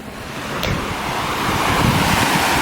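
Ocean waves wash onto a Grand Cayman beach in a loud continuous surf roar, mixed with wind buffeting the microphone, with no voices.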